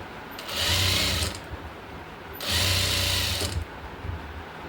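Sewing machine stitching a V-neck frock-style nightdress, running in two bursts of steady whirring stitching, each a little over a second long, separated by a short pause, close and fairly loud.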